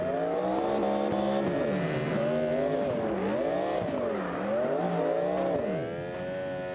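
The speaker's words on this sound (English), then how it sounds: "he's got the slide style specs on the car and everything, and he's driving like that out of the gate" A race car set up for drifting, with slide-style specs, accelerates hard along a mountain track, its engine loud and continuous as the revs climb and fall repeatedly through the gears.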